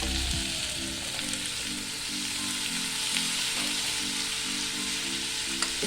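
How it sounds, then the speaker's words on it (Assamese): Cut taro roots fry in hot oil with spices, giving a dense, continuous sizzle close by, with a faint low rhythmic hum underneath and a few light clicks. "এয়া মই কাটি থোৱা কচুখিনি দি দিছোঁ।"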